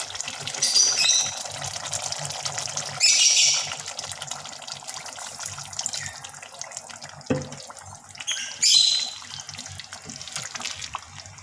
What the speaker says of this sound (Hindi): अब हम इसमें शोरबा डाल देंगे जितना हमें चाहिए।